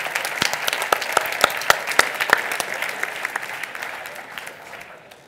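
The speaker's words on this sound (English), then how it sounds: "Yay, big applause," Audience applause at a Barcelona Java conference closing ceremony, with several sharp distinct claps standing out over a steady wash of clapping that gradually fades toward the end.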